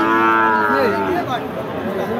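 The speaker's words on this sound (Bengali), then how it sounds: "এই দিকে দেখতে পাচ্ছেন দর্শক, দুইটা বকনা গরু, খামার উপযোগী বকনা।" A Sahiwal heifer lows at a border-area cattle market, one long, loud moo that bends down in pitch near the microphone, with faint crowd murmur behind it.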